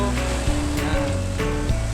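Sea waves washing steadily onto Concepcion Beach, a continuous close rush of surf with faint tonal sounds and a murmur of voices mixed in.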